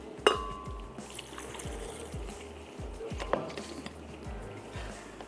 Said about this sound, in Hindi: थोड़ा सा हम इसमें ऐड करेंगे पानी और इसका बना लेते हैं पेस्ट।